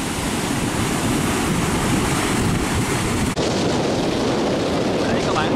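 Heavy storm waves and strong wind at sea around a small boat, a steady loud roar of surf and wind noise throughout, broken by one brief dropout midway, with no talking.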